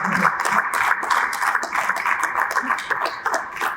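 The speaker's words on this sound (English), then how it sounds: "I would like to please invite him to the stage at the backdrop of a huge round of applause" Applause from the audience at an architecture and interiors design debate in Raipur greets a guest speaker invited onstage, a steady dense patter of clapping lasting throughout, with faint chatter mixed in.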